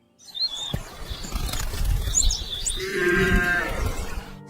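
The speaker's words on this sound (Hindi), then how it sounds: "तभी एक बूढ़ा चरवाहा अपनी भेड़ों के साथ वहां रुका।" A flock of sheep bleats outdoors in a village field, several wavering calls overlapping at close to middle distance with birds chirping and a rustling background.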